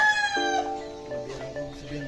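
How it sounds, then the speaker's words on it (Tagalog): Chickens crowing and clucking nearby, with a rooster's drawn-out call standing out among the flock and a voice murmuring faintly underneath. "ang dami manok dito"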